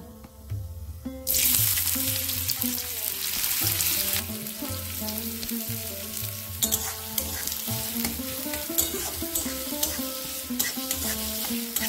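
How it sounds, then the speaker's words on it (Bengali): Chopped onions frying and sizzling in hot oil with cardamom, cloves and cinnamon for a mutton keema, a steady loud sizzle that starts abruptly after a quiet moment and continues with stirring clatter throughout. "পেঁয়াজটা যতক্ষণ না গোল্ডেন ব্রাউন হয় ততক্ষণ আমি ভেজে নেব।"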